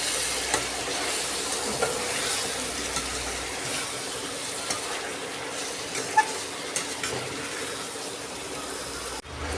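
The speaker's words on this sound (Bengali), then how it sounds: "মাংসটাকে কষে নেব।" Chicken pieces stir-fried with turmeric, chilli, coriander and cumin powders in a pan, a continuous sizzle with occasional sharp scrapes and clinks of a spatula, close and steady throughout.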